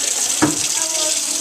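Tap water runs steadily into a sink as hands are rinsed after scrubbing, a close, continuous hiss with a single brief splash near the start and no pause.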